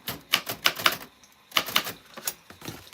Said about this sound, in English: This is Typewriter ASMR